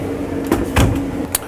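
A dryer door is opened in a front-living Luxe 46FL fifth-wheel RV, giving a few brief, soft clunks and knocks at close range over a quiet room hum, with no talking.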